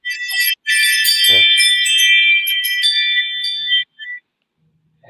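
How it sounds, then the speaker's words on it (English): A doorbell rings out in a loud, rapid, jangling cascade of bright chime tones, like a frantic wind chime. It runs for several seconds with one brief break, with no talking over it. "That is like a wind chime on crack."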